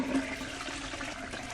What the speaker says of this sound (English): Now let's see what happens when we flush.